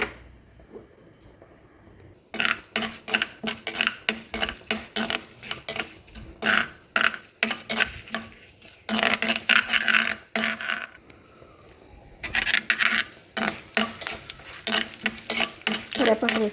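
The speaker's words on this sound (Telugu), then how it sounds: "ఆయిల్ హీట్ ఎక్కినాక పోపు దినుసులు వేసుకోవాలి" Spices for tempering go into hot oil in a pan, with repeated sharp metallic clinks and scrapes of a spoon stirring against the pan over a faint sizzle, in uneven bursts with short pauses.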